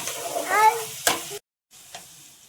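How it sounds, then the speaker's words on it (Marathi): Spice paste for vada pav frying and being stirred in a hot pan, a close crackling sizzle with a sharp clatter of the utensil about a second in, then a brief pause before quieter sizzling resumes. "वाटण छान असं परतलेलं आहे."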